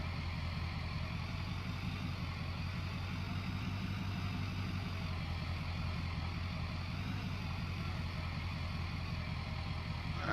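A steady low engine rumble from an 8530 tractor idling in a farming video game, unchanging and continuous for the whole stretch with no talk.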